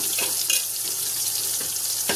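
Vegetables including brinjal fry in hot oil for a Rath Yatra offering to Jagannath, giving a steady, close sizzle with faint stirring scrapes and small crackles throughout.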